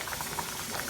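Black beans with pumpkin boiling in a pot, a steady close bubbling simmer with soft repeated pops throughout and no talk.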